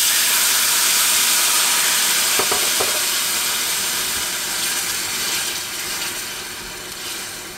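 Broth poured over risotto rice in a hot pan sizzles and hisses steadily, a loud bright frying wash that slowly eases off while the rice is stirred, with faint clinks.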